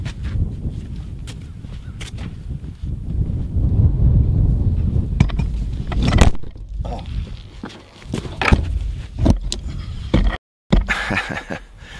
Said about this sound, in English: wind blew my camera down